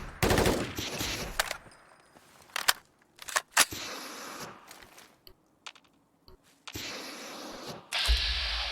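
Bursts of covering gunfire in the video game Fallout 4, set in the Glowing Sea, come as sharp loud volleys separated by quieter gaps, with a few isolated single shots in between.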